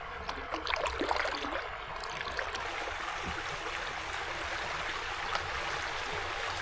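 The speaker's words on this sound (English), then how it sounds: "Another tiny little waterfall." Water rushes and burbles steadily over rocks at a small waterfall on the Suwannee River, a continuous close-by flow with occasional small splashes and no voices.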